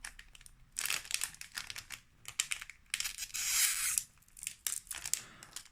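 A Pokémon card booster pack wrapper is torn open, its crinkly foil tearing and crumpling in several bursts before one longer rip, close and clear with no speech.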